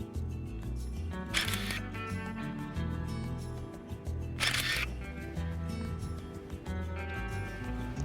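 A Minolta Maxxum 7000 film camera fires its shutter twice, two sharp clicks heard close up over a quiet, steady background.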